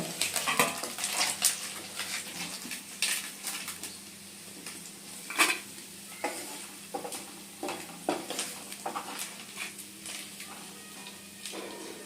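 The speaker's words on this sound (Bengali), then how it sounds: "দেখুন মাছটা ভাজা হয়ে গেছে, এবার মাছটা আমি আস্তে করে নামিয়ে নেব" Fish fried in hot oil gives a soft, steady sizzle with scattered scrapes and clinks of a utensil against the pan, fairly quiet and close, with no talking.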